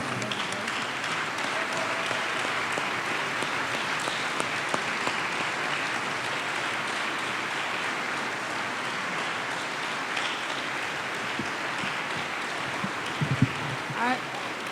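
An audience at a school graduation ceremony applauds steadily and loudly, with a dense, sustained clapping that fills the room for the whole stretch and never fades.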